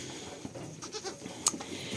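Goats in a barn give a few faint bleats and rustles, quiet and close, with no one talking.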